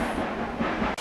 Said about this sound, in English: You can still hear the train in the background.